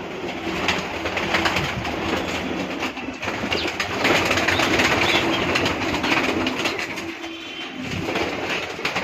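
Pigeons coo softly amid a dense, noisy background of rumbling and clatter, the calls blending into a steady wash of sound.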